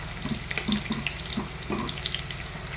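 Garlic, onion and ginger sautéing in a pan, a close, continuous sizzle and hiss with light stirring clatter and scraping over it.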